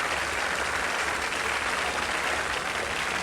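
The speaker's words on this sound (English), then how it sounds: "let's give them a loud round of applause" An audience at the Miss Asia 2015 pageant applauds the winners with steady, dense clapping that stays loud and continuous throughout, with no voices standing out.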